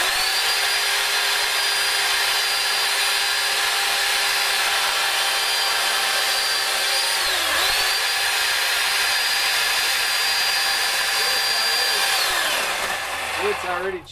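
A chainsaw carving into end-grain wood, the engine running loud and steady at close range for the whole stretch, its pitch dipping briefly midway as the bar bites in, with no talk over it.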